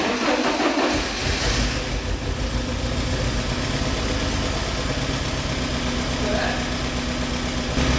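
The engine of a long-abandoned Porsche cranks and catches, then settles into a loud, rough, steady idle. A voice is partly heard over the engine.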